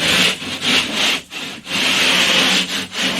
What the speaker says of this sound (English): So I just use like a rasping tool to clean that edge. So I simply just run it down,